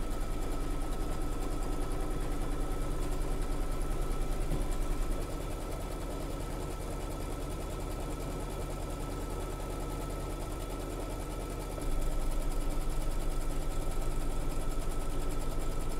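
A sewing machine runs steadily, stitching the seams of a quilt background block and tacking around its four sides; the whir continues for the whole stretch and grows briefly louder near the end.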